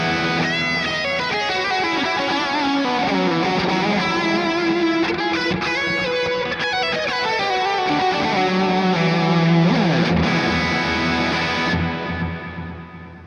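Orange Jewel Baby solid-state amp head on channel 2 pushes a thick, distorted electric guitar with chords and sustained notes, continuous and loud throughout, with no talking.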